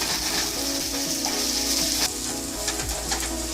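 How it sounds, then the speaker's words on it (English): Diced onions sautéing with salt in a pan, a continuous dense sizzle and crackle with soft stirring scrapes throughout, close and fairly loud. "saute the onions until they become a little soft"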